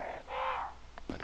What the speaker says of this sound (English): I hear crows, but I don't see crows.